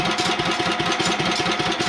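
A Cub Cadet 1650 hydrostatic tractor engine idles through a homemade muffler, a close, steady, rhythmic low chug with no talk.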